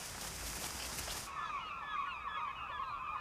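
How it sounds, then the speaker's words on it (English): A flock of gulls calls at their roost outside a city at the morning departure, many overlapping harsh cries rising after a brief rush of broadband noise, steady and fairly close. "a flock of gulls are coordinating their morning departure from the roost."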